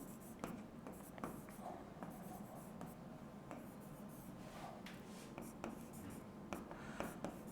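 Chalk or marker writing out letters on a classroom board: quiet, steady scratching strokes with brief taps, close and continuous, no talking.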